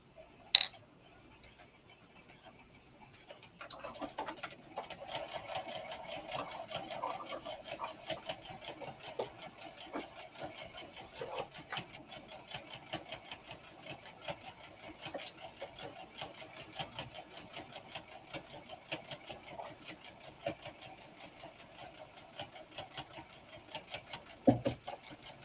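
A sewing machine stitches a fabric coaster in a quiet room, a soft, rapid mechanical patter running almost continuously after a brief pause, with a small click near the end.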